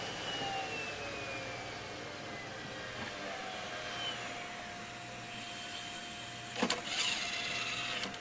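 Failing hard drive from a digital picture frame computer, a faint steady whirring hum with a slowly falling whine as the disk spins down, and a brief clicky clatter near the end.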